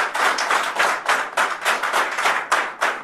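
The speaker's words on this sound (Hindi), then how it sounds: "मैं चाहूंगा सर के लिए एक बार जोरदार तालियां," An audience claps loudly in short rhythmic bursts, sharp close hand claps repeating steadily with almost no talk, at a business plan presentation.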